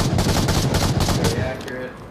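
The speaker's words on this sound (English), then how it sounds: "It's got actually a nice fire rate. It sounds meaty." Sustained rapid machine-gun fire in the VR shooter Onward, a magazine-fed MARSOC weapon firing a dense, loud burst that cuts off after about a second and a half, leaving a fading tail.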